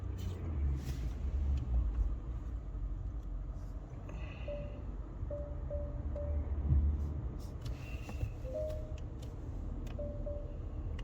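Peugeot 508 Hybrid car driving gently through mixed city streets, with a steady low road and tyre rumble from inside the cabin and faint tonal whines now and then.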